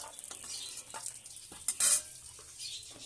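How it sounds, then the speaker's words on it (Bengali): Dry chillies, bay leaf and panch phoron frying in oil in a wok, a soft sizzle with light stirring and a sharp spatter flaring near the middle, no voices. "ওই কড়ার মধ্যে দিয়ে দেবো শুকনো লঙ্কা, তেজপাতা, পাঁচফোড়ন"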